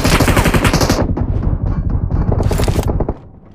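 Rapid automatic gunfire in a team-based e-sports video game, loud, close bursts of dense rattling shots, a brief pause, then another burst before trailing off.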